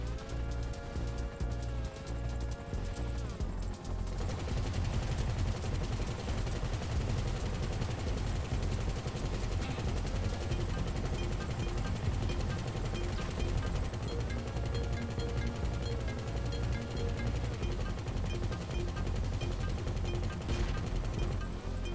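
Akula and Stealth Annihilator helicopter guns firing in GTA Online, a dense, sustained machine-gun barrage with rapid continuous shots layered over a steady rotor hum, loud and unbroken throughout.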